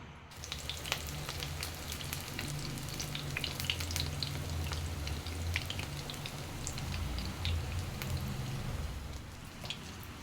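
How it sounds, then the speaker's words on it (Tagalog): Eggplant (talong) frying in oil in a pan in Quezon Province, with a dense, continuous crackling sizzle close by over a low steady hum. No one speaks. "Luluto ako ng pritong talong for breakfast"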